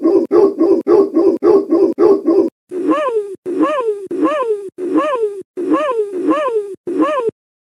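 Several dogs bark in a steady rhythmic run of short repeated barks, then a series of higher yelping whines, loud and close with brief gaps between calls and no talking.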